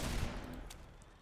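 Gunfire from the Roblox game Gauntlet comes in a brief loud burst of close shots at the very start, then fades into a decaying rumble, with no talking.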